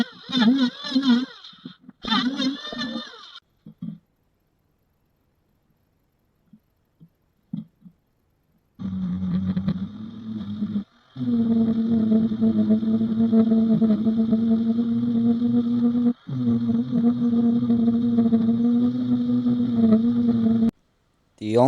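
Electric planer leveling the base of a reclaimed wood barrel in a workshop, a loud steady motor whine running for several seconds with brief pauses and a short break, preceded by a few scattered knocks.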